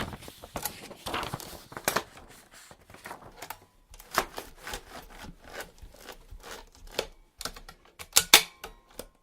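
A braille writer being typed on, with sharp irregular key strikes and the clatter of the carriage moving, all close by and with no talk.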